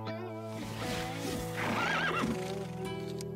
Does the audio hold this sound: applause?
no